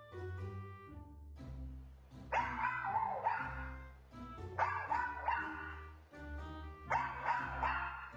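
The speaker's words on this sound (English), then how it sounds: "Oh, that's a puppy." A puppy yips and barks in bursts, high whimpering cries mixed with short barks over several seconds, close and alone with no talk.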